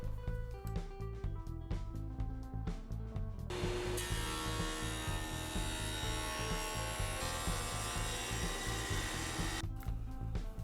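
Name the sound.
CNC router pocketing out wooden cabinet sides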